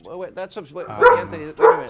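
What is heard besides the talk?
dogs barking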